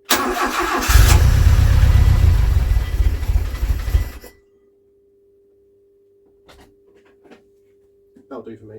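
A Talbot Horizon, off the road for 16 years, cranks and fires up with a loud, rough engine roar that runs for about four seconds, then cuts to silence, followed by a faint steady tone and a few quiet knocks.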